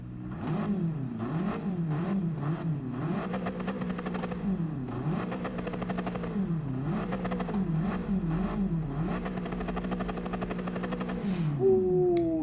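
Lancia Delta HF Integrale rally car in Gran Turismo 7, its engine revving up and down through repeated gear changes with a loud buzzy drone and rhythmic shift pops.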